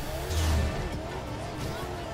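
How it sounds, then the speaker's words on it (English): Engine noise from cars racing in the video game Forza Horizon 2 as nitrous boost kicks in, a loud revving drone with a brief low surge early on, steady throughout. "let's get some nitrous off."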